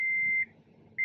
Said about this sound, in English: I'm sorry for the beeping.